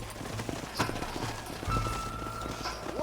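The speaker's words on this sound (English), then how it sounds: "All right, leave the horses here and follow me." Horses in the Western video game Red Dead Redemption clip-clop over the ground in uneven hoofbeats, with a short whinny and creaking tack nearby, moderately loud in a quiet outdoor setting.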